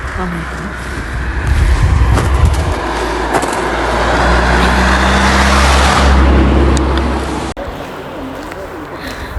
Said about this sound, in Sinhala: වාහනත් හරියට යනවා මේ පාරේ.